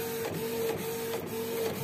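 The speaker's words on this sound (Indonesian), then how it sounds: "Nah, ini cetakan yang kedua di kertas art paper." A Canon IP2770 inkjet printer printing on art paper with dye-based photographic ink, a steady mechanical whir with a sustained tone and regular rhythmic clicks from the print head passes, close up and without speech.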